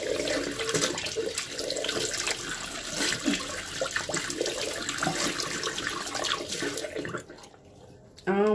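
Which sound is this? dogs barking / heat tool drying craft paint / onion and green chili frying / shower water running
shower water running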